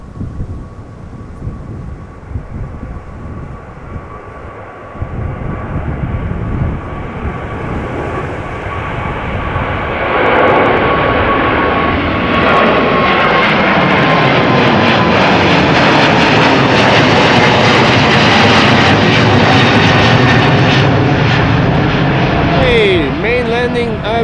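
A 19-year-old KLM Boeing 777-200ER jet takes off from windy Amsterdam Schiphol and climbs, its engine roar building from a distant rumble to a loud, sustained howl over roughly 24 seconds, with a voice talking throughout.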